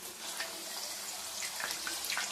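Puri frying in hot oil, a steady soft hiss and crackle with small bubbling pops throughout, fairly quiet and close, with no talking.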